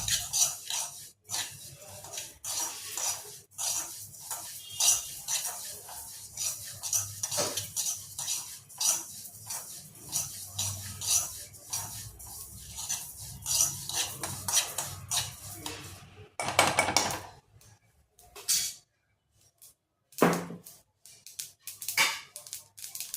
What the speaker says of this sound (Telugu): నువ్వులు ఇట్లా దోరగా వేయించుకోవాలి.